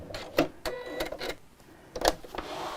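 A sewing machine stitches a seam just below a pocket on a pair of pants, running in several short, uneven bursts with brief pauses between them, close and fairly loud.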